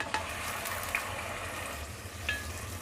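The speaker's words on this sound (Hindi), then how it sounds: "प्याज को गुलाबी होने तक हम फ्राई करेंगे।" Chopped onions frying in oil with cloves and whole cumin, a continuous moderate sizzle punctuated by a few light stirring clicks, no voices.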